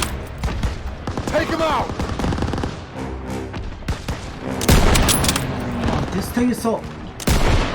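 Rapid machine gun bursts and scattered rifle shots crack through a Call of Duty WW2 battle, loud and dense, with soldiers shouting orders over the gunfire.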